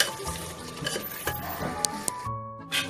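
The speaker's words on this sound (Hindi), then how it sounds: "तेज गैस पर हम इसको भून लेंगे।" Mutton with whisked yogurt is fried on high flame and stirred in a pan. A steady sizzle runs close throughout, with a spoon scraping and clinking against the metal in several quick strokes and a short pause near the end.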